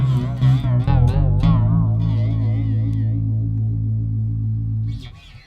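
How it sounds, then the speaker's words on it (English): Bass guitar run through an MXR M83 Bass Chorus Deluxe with its crossover disengaged: a quick burst of picked notes, then a long sustained low note with swirling, wavering modulation across the whole range, fading near the end. "So on the same settings as before but with the crossover disengaged,"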